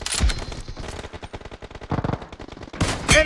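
Rapid automatic gunfire from a car98 weapon in a BGMI 8 vs 8 match, bursts of close, loud shots rattling through the clip with short pauses and a few heavier blasts.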